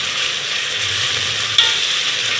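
Onions sautéing in a pan for a Pakistani shola khichdi, giving a steady, even sizzle with soft stirring and one brief clink partway through, alone with no talk.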